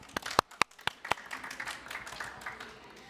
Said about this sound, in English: Let's give us applause.